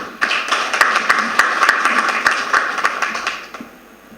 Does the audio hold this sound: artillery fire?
no